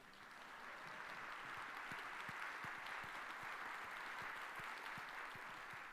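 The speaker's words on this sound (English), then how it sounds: "Round of applause right here." A gathered audience at a Blue Zones kickoff event gives a faint, steady round of clapping that carries evenly from start to finish, heard from a distance.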